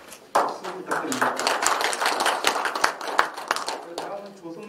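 Audience clapping at a Seoul Mapo district advisory council meeting during an appointment ceremony, dense steady applause from a room of people lasting several seconds, with a faint voice underneath.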